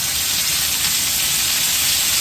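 Eggplant and tomato sautéing in a pan with salt make a loud, even, continuous sizzle and hiss with no talking.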